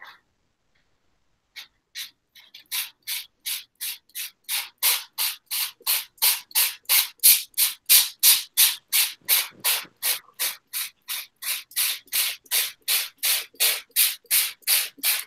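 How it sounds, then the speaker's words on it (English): Rapid repeated squirts of water from a trigger spray bottle, starting with a few isolated sprays then settling into a fast steady rhythm of bursts. "So I've got my spray bottle here."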